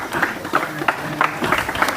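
A class gives a round of applause for Indian Army soldiers at an honouring event: a short, uneven burst of clapping with separate sharp claps at fairly close range and no talk over it.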